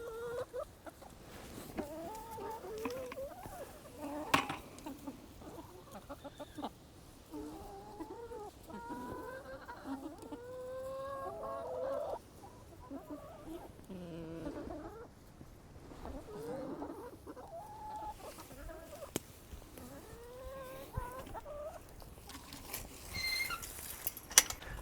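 Backyard hens cluck and chatter busily while being fed tomato treats, a close, continuous flock murmur with occasional sharper calls and little human voice.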